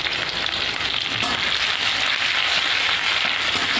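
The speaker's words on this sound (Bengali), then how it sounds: "এটাকে ভালো করে একটু ভেজে নেব।" Onion and garlic sizzling in hot oil in a wok with cumin and dried chili for a Bengali dal and jute-leaf dish, a loud, dense, steady hiss and crackle throughout with no talk.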